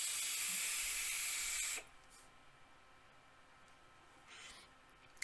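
Loud, steady airy hiss of air drawn through an Asvape AIM-9 RDA with its airflow fully open, lasting under two seconds and then cutting off to near quiet with a brief fainter puff later.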